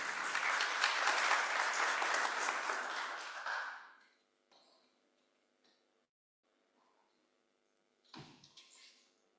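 Applause from a forum audience greeting the speakers, dense steady clapping for about four seconds that then cuts off, followed by faint room noises and a brief knock.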